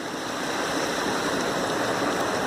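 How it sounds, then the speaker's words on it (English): A flooded farm creek roars down a valley during a December flood, a steady dense rushing of water, loud and close with no voices. "Here's the main creek coming down the valley on the farm here. And as you can see, it's really roaring."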